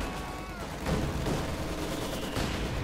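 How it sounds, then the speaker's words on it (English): A T-70 tank's 45mm gun fires amid a dense battle in Company of Heroes 2, rapid booming shots blending into a constant roar of gunfire and explosions. "T-70 striking. 45mm gun opening up."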